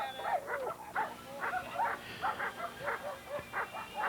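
A young drug-detection training dog at a working-dog kennel gives a string of short yips and whimpering barks, about a dozen rapid bursts in an uneven rhythm, fairly close and moderately loud, with no talk over them.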